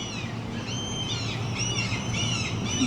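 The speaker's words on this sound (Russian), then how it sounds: "Чайки орут" Seagulls squawking near a hotel patio in Anchorage, Alaska, several harsh overlapping calls repeating over a constant low background hum, fairly close, no talk.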